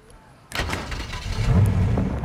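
A car engine in the Fortnite video game cranks and starts abruptly after a quiet moment, then settles into a steady, fairly loud rumble that builds slightly toward the end, with no talking.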